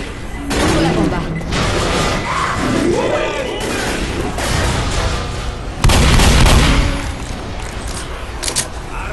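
A pipe bomb goes off in Left 4 Dead during the Dead Air construction-site chapter. A loud, broad blast lands partway through amid gunfire and clatter, and character voices shout over the noise.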